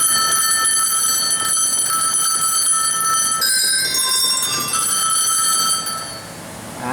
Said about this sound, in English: Right now we're looking at a set of tuned sleigh bells.